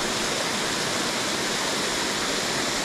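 Waterfall on a small trout creek, a steady, dense rush of falling water that fills the whole clip at close range with no talk.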